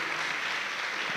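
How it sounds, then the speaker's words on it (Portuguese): A church congregation applauding during a celebration service, a brief, even wash of many hands clapping with no voices standing out. "Pode aplaudir"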